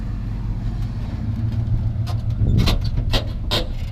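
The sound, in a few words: squeaky truck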